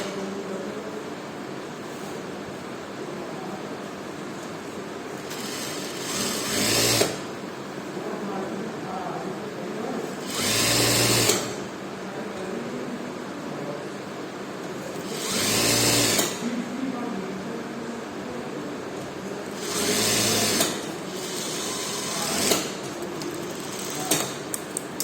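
Sewing machine stitching the sleeves of a garment, four separate short whirring bursts spaced several seconds apart over a steady background hum.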